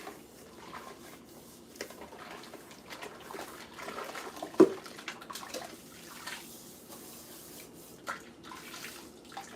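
Water runs into a clogged kitchen sink, a continuous soft splashing and gurgle with one sharper clunk midway, nearby and without talking.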